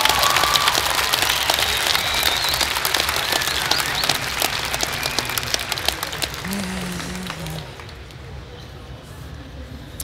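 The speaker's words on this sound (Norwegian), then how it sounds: "Publikum gir dem en stor applaus da." Audience applause at a hypnosis show, a dense steady patter of many hands that gradually thins and quiets, with a brief voice near the end.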